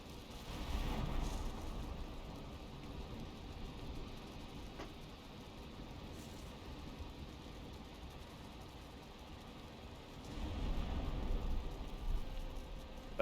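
Storm rain in the video game Valheim, a steady broadband rush with a low rumbling undertone that swells louder near the start and again toward the end, continuing throughout with no talk.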